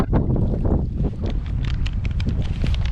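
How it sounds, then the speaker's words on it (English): Strong, steady wind buffets the microphone outdoors on a cold day, a continuous low roar with repeated gusts and crackling bursts and no talk. "we got 10 to 15 mile an hour wind gusts"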